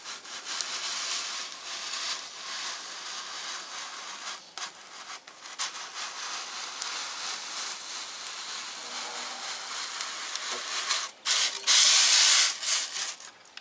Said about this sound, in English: I'll hold it against the fence and we'll slide it through past the hot wire